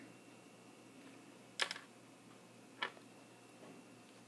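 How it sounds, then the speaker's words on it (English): Keys on a graphing calculator keypad are pressed in a quiet room, giving two distinct crisp clicks about a second apart, with a few fainter taps around them. "we're going to type that into our calculator"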